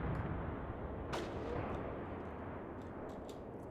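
Distant artillery strikes in the wargame Graviteam Tactics: Mius Front rumble low and faint, with a dull boom near the start and a steady deep background roar, no talking.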